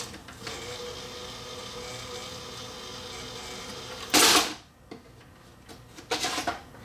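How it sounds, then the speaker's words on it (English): The eject mechanism of a Sony VO-4800 video cassette recorder works after playback stops: a sharp mechanical whirr and clunk, a brief pause, then a second shorter grinding burst, all close and loud over a faint hum. "I'll stop it and I'll press eject so you can see the mechanism in operation."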